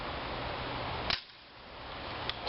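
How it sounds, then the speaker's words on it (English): An airsoft Wind Gun M1911 pistol fires at a light bulb, giving one sharp, close crack against steady background hiss, followed by quieter room tone and a faint later tick. "shoot this light bulb with the Wind Gun M1911"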